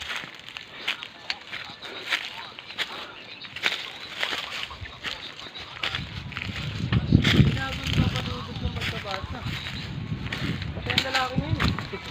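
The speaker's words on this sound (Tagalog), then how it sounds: "Ayan yung hangin. Napakahangin." Strong wind on a hilltop buffets and roars across the microphone in low rumbling gusts, with a voice talking partway through.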